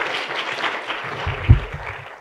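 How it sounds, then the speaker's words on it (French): Conference audience applauds briefly after a talk on soil moisture probes, a soft, moderately distant patter of clapping with a low thump partway through. "on vous applaudit"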